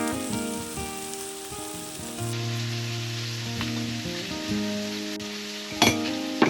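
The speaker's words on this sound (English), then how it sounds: "when all this stuff fries up a little more, I'm going to throw in my moose steak" Food frying in a pan on a Caminus M wood stove inside an RBM Outdoors UP-5 tent in extreme cold, with a steady close sizzle and occasional stirring scrapes.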